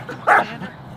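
A dog gives two loud, close barks, one sharp bark early and another starting right at the end, with quieter movement noise between.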